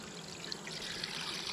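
Water poured steadily into a large pot holding ten pounds of sugar to make bee feed, a continuous soft hissing stream, faint and alone.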